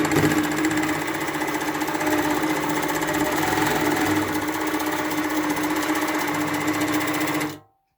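A longarm quilting machine stitches in a fast, loud, steady mechanical chatter for several seconds, close by, then stops abruptly.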